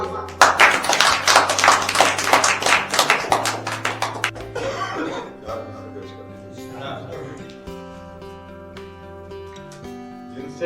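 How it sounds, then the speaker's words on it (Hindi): An audience at a mushaira, an Urdu poetry gathering, bursts into loud applause to welcome a poet. The clapping is dense and strong at first, then thins and fades over several seconds while a voice speaks underneath. "आइए आप सब तालियों की गड़गड़ाहट के साथ जोरदार इस्तकबाल करिए"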